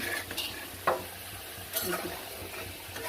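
Onion frying in a pan at home while preparing iftar food: a soft steady sizzle with a few sharp scrapes and knocks of a spatula stirring against the pan.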